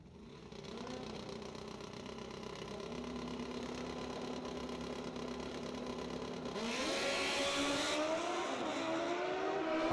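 A wheelie bar drag racing motorcycle launches off the line, its engine buzzing with a rising pitch that surges louder partway through, heard from a distance at a drag strip.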